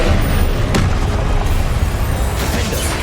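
A Confringo blasting spell from the Hogwarts Legacy video game bursts into a loud, booming explosion, with a sharp crack near the start amid dense continuous rumble and debris noise throughout, no talking.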